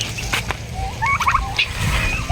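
A turkey gobbling in a quick rattling burst, fairly close, over a low rumbling outdoor background, from free-roaming domestic turkeys.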